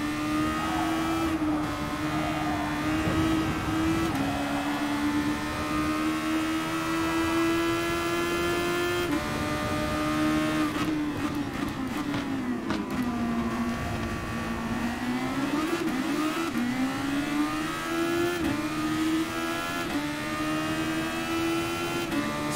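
A Super Formula race car in Gran Turismo Sport screams through an FIA Nations Cup race, its engine note holding a high, continuous whine. The pitch shifts with gear changes and throttle, close and loud, with no talk.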